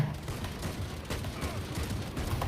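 Rapid machine gun fire in the tactical shooter Valorant, a dense, continuous rattle of gunshots lasting the full moment, loud and close with no pause between rounds.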